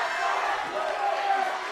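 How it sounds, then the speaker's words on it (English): A powerlifting meet crowd roars and cheers loudly through a deadlift attempt, a dense, sustained wall of shouting voices with no pauses. "This crowd is electric, Chris."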